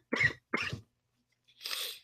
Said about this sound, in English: I had the cough for a second there